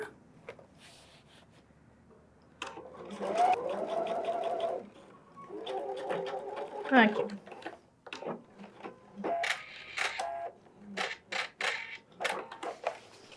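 Domestic sewing machine stitching the second side of an invisible zipper, short quiet whirring runs interspersed with clicks and handling noises, close and alone.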